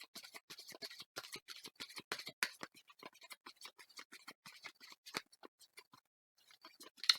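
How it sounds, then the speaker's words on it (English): Tarot cards shuffled in a quick run of crisp, papery riffling clicks, dense and rhythmic, pausing near the end before a final snap; close up with no voices. "Give these a really good shuffle."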